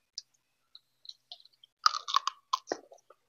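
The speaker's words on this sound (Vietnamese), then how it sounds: "bắt đầu đưa vô mình cắn nè. Nghe nghe tiếng nè." Close, crisp bites and crunchy chewing of food dipped in sugar, pepper and fish sauce, a few scattered clicks, then a quick burst of crunches, in near silence.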